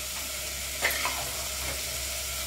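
A steady, hissing sizzle of chicken frying in a pan, with a couple of soft stirring scrapes partway through.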